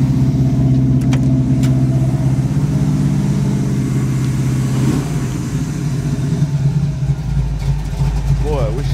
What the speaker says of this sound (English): Well, the Camaro's idling happily.